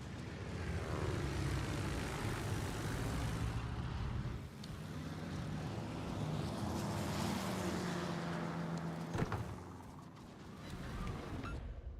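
Propeller aircraft engines drone in World of Warships as carrier fighters launch, a steady rumble that swells and fades with brief game effects mixed in.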